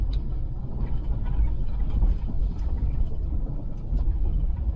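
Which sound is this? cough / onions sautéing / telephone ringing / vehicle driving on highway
vehicle driving on highway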